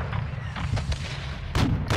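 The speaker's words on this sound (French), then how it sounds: "Une roquette!" Rocket blasts from a Call of Duty Modern Warfare 2 battle, two loud broadband booms landing near the end over a steady rumble of distant gunfire and game ambience.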